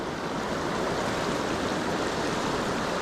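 River rapids rush in a dense, unbroken roar of churning water, close and loud with no let-up.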